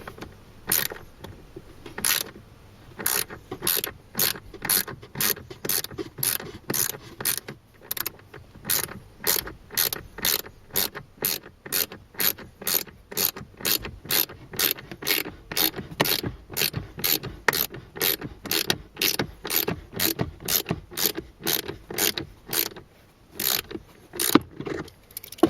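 A ratchet wrench tightens the cabin filter cover screws on a Mk4 Ford Mondeo Titanium X Sport, a long run of rapid, evenly spaced clicks close to the microphone, with only brief pauses between strokes.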